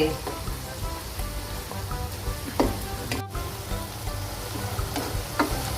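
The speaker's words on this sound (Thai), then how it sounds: "ผัดไปแป๊บหนึ่งนะคะ แล้วก็ค่อย ดูว่ามะเขือสุกไหม" Eggplant and minced pork being stir-fried in a pan, a continuous dense sizzle with scraping stirring strokes and a few sharper clatters, fairly close.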